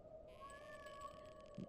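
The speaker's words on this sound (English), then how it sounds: "The sound of a cat blended into the air, resonating in the alley." A cat in a video game alley lets out a single drawn-out meow with a steady wavering tone, faint and slightly distant, set over a low ambient hum.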